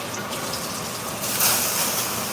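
Water poured onto green beans cooking in a pan for a chicken fried steak dinner, a steady rushing gush that swells louder midway and continues without talk.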